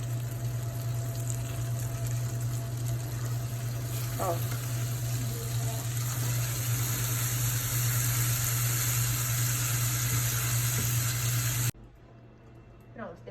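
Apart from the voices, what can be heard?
salted caramel bubbling in pan after adding cold butter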